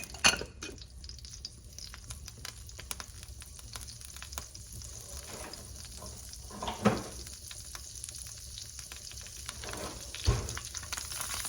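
Butter sizzles quietly in a pan on low heat beside crispy chicken, giving a soft continuous frying crackle with a few faint clinks of utensils against the pan.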